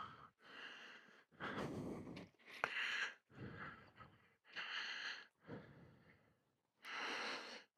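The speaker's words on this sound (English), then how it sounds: "Sorry for my heavy breathing." Heavy breathing from a hiker on a mountain trail in Arizona, a series of loud, close panting breaths and gasps separated by short pauses.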